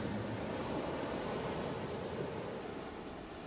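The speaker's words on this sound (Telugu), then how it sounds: "సముద్రం ఒడ్డున వెన్నెల్లో వచ్చే ప్రతి అల మన కాళ్ళను తడుముతూ అల్లరి చేస్తున్నప్పుడు" Ocean waves wash onto a moonlit seashore in a steady, soft roar of surf with a faint gusty hiss, continuous and fairly quiet with no voices.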